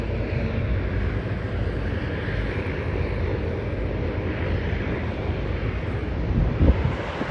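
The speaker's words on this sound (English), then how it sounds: "This is a, a 787-9 United flying from Los Angeles, UA 839" Steady broadband roar of a United Boeing 787-9 airliner from Los Angeles at Sydney Airport, a continuous distant jet rumble with wind buffeting the microphone and no talking.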